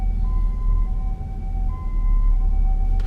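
Ambulance siren in congested Guangzhou city traffic: steady electronic siren tones, held and then stepping in pitch, sound over a loud low rumble of idling vehicles close by.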